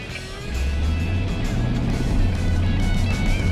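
A car drives through an emergency braking drill at the Ron Fellows Performance Driving School, giving a steady, loud, close engine and road rumble that swells after a brief quieter start and holds without a break.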